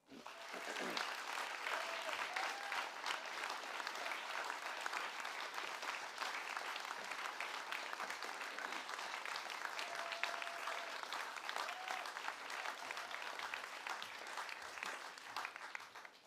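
Sustained audience applause at the Northern Writers' Awards ceremony as the New Writing North chair walks to the lectern, a dense, steady wash of many hands clapping that carries on without a break, with faint voices underneath.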